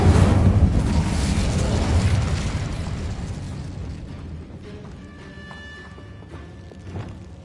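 Confringo and Incendio spells cast in the Hogwarts Legacy video game, a loud fiery blast and roar that slowly fades into softer crackling and mechanical game effects, with no voices.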